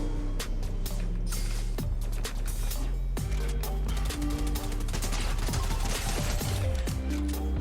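Combat SMG gunfire in a video game: dense, rapid bursts of shots and sharp impacts, loud and continuous over a busy layer of game noise.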